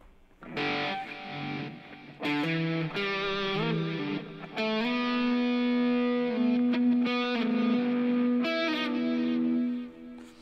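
Sustained synth and guitar-like tones run through the Crispy Reverb plug-in, a distorted, chorused, washy reverb tail with held notes and a few abrupt changes, loud and continuous with no talking.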